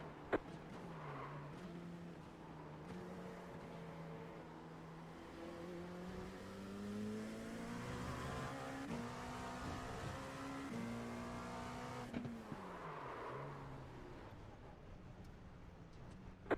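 Race car engines in a sim racing video game roar steadily, their pitch climbing and dropping through gear changes, with a sharp downshift and brief tire-skid texture near the end, loud and continuous with no talking.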